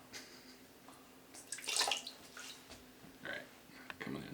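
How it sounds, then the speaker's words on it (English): Water runs over waxed gloves in soft, uneven splashes and trickles, with one brighter splashing burst midway and quieter drips around it, fairly close and faint overall. "we're going to run some water on them and show you how it works"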